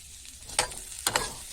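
A mashed potato and pea filling hits a pan for homemade oil-free samosas, two brief scraping, sizzling bursts close by over a quiet background.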